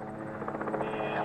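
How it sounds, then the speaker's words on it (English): A Robinson 66 helicopter operated for agricultural work hums and buzzes steadily at close range, a continuous rotor and engine drone that holds level throughout. "the helicopters can do it."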